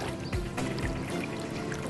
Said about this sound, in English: Take a 1-pint clean plastic container and dip it approximately 18 inches